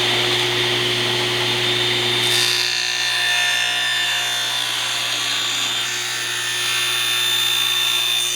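A table saw cuts wood held in a zero clearance compound taper jig at a 22.5 degree bevel, a loud steady whine with a deeper rasp as the blade bites midway, continuous to the end.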